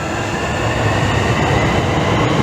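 Two Class 465 electric trains pull out of Grove Park station, a loud, steady close-up rumble of wheels and traction noise with no let-up.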